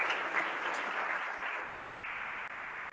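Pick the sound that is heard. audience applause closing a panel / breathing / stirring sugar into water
audience applause closing a panel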